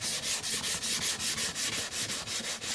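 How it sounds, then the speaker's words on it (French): Wood being hand sanded along the grain with a sanding block, a close, rhythmic series of about a dozen scratchy back-and-forth strokes, evenly paced and alone. "On ponce toujours dans le sens"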